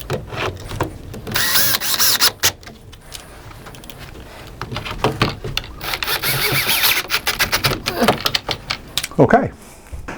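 A power driver sinks installation screws into a Z-frame plantation shutter frame, heard as several short whirring bursts with a longer run of driving near the middle, mixed with handling knocks and clatter.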